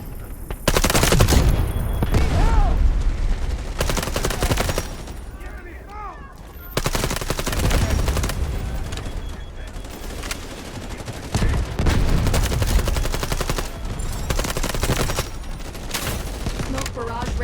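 Rapid automatic AUG rifle fire in the shooter game Delta Force, repeated bursts of loud, close shots across the whole stretch with brief pauses between volleys and occasional radio-style voice lines in the mix.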